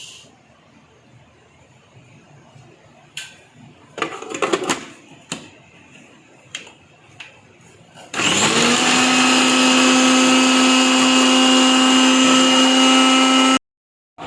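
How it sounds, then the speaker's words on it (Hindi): Electric chopper whirring loudly and steadily for several seconds as it chops green chillies, preceded by a few clatters of loading the bowl and cut off abruptly. "उसको मैंने चॉपर में चॉप कर लिया है"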